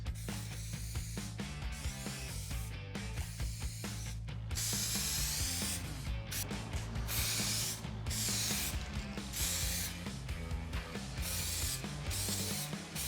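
An O'Reilly's rattle can sprays paint onto a truck roll pan in repeated short hissing bursts with brief pauses, close and fairly quiet, with occasional faint clicks between passes.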